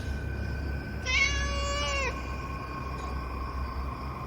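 A single drawn-out cat meow, clear and fairly close, rising and falling over about a second against a quiet background hum.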